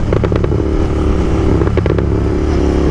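A Triumph Street Triple's inline-three motorcycle engine revs loudly and close by, a steady, throbbing drone broken by a few sharp bursts of revving.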